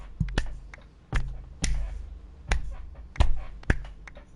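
Sparse clapping sound effect from Genshin Impact, meant as a small crowd but coming across as a handful of separate sharp claps spaced unevenly, each followed by a short ringing tail.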